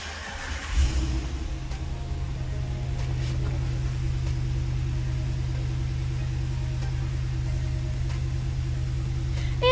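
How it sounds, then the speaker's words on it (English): A 2022 RAM 2500 Laramie pickup's engine cranks and catches via push-button start, then settles into a steady, low, rumbling idle that holds evenly throughout, heard close from inside the cab. "now that the engine is running and the dashboard is lit up"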